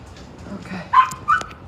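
A small pet dog gives two short yips or whimpering barks in a quiet home, fairly close and moderately loud, with soft background noise between them.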